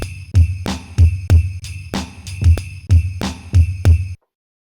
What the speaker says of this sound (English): That's how the drums sound.